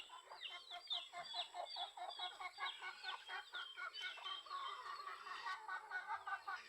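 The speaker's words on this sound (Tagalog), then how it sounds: "Marami na tayo dito mga kabrad na nakakawala na manok." A flock of chickens clucking and chattering continuously, fairly close, with overlapping calls and no talking.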